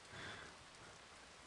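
Steady hiss of rain from a Jurassic Park audio soundtrack, a dense even wash of falling drops heard alone with no voices, slightly swelling at the start.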